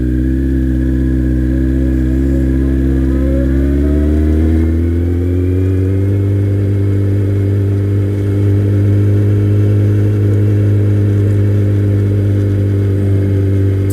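Kawasaki ZX-12R motorcycle engine running loud and steady while riding on a dry, overcast day, its drone rising in pitch as it accelerates through the first few seconds, then holding a constant, strong hum at cruising speed.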